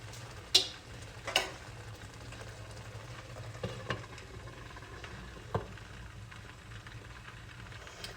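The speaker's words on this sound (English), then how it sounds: "So this is just on a medium high to kind of saute it" A creamy mushroom spinach sauce sautés in a pan over medium-high heat, giving a soft, quiet sizzle broken by a few sharp clicks and taps from a utensil.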